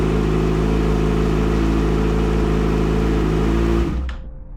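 A 2014 Kawasaki ZX6R motorcycle engine runs loud and close with a steady, buzzing drone, revving slightly before cutting off abruptly near the end.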